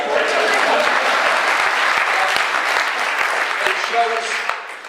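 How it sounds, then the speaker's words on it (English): An audience at a political rally at a cricket ground applauds loudly and steadily, the dense clapping sustained for several seconds before starting to fade, with some voices mixed in. "You're supposed to applaud that one."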